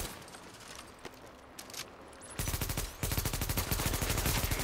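An automated turret in The Division opens fire in a snowy Queens tunnel camp, loud rapid bursts of automatic gunfire that start abruptly and keep up a dense, steady rattle after a quieter stretch.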